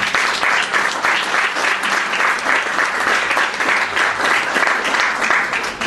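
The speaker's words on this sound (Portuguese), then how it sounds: "Então vamos dar uma salva de palmas para ele." Seminar audience in Brasília gives a loud, dense round of applause, many hands clapping in a sustained, even roar that fills the whole stretch without pause.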